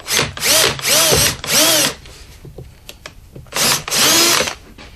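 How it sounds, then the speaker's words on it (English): A power drill boring a hole in a plastic fuel can whines loudly in three short bursts, pauses amid faint clicks and handling noise, then runs twice more, close by. "I'm going to drill a hole"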